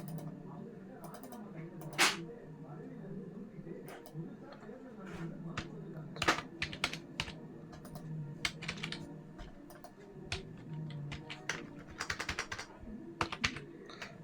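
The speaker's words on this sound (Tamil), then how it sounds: "இப்போ நான் வந்து ஆடித்திருவிழா டைப் பண்ணுறேன்" A computer keyboard being typed on to enter Tamil text, with a steady run of quick, crisp key clicks and a few louder strikes, while a voice murmurs faintly underneath.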